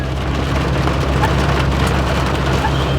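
Heavy rain drums steadily on a moving car in the Sri Lankan hill country, a dense continuous patter over low road rumble.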